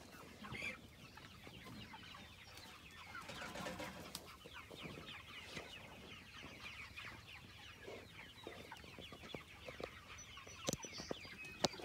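Chickens cluck steadily nearby, a busy flock with scattered sharp calls and occasional louder squawks over a low background hum.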